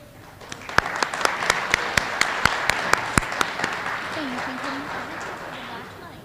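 An elementary school audience applauds third grade students of the month, a dense, steady wash of many hands with a few sharp individual claps standing out, continuing for several seconds at moderate distance.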